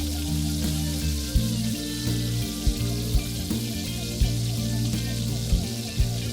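Ginger garlic paste spits and sizzles as it hits hot oil in a pan, a steady close crackle broken by regular knocks of a spoon stirring, with a constant low hum underneath.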